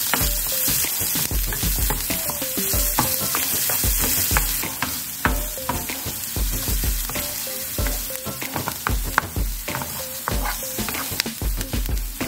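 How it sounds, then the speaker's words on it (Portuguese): Chopped onion softening in a pan, a constant bright sizzle broken by frequent scraping, clinking strokes of a utensil stirring, close and loud throughout. "Agora vamos dar uma murchada aqui nessa cebola."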